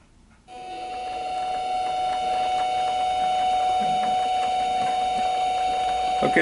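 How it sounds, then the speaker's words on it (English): Mini lathe fitted with an ER32 MT3 collet chuck on back plates starts up and runs steadily, a thin whining hum with faint mechanical clatter, close and moderately quiet. "Maybe I can just turn on the lathe."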